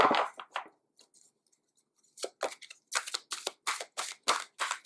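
Tarot cards shuffled by hand in quick riffling bursts, a few soft flicks at first, a pause, then a rapid run of crisp, evenly spaced card snaps close up.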